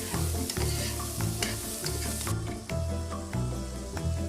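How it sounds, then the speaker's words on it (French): Onions, celery and carrots sauté in a pan for a veal dish, giving a loud, continuous sizzle with rhythmic scraping strokes from stirring. "on peut faire revenir nos légumes. Oignons, céleri, carottes"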